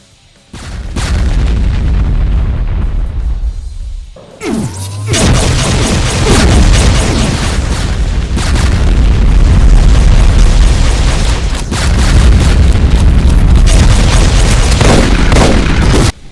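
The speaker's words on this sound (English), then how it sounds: "Spreads of round BFG shots." Spreads of round BFG shots from a Doom mod's Masterminds burst into a heavy, continuous wall of explosions, loud booms rolling one into another after a brief near-silent opening.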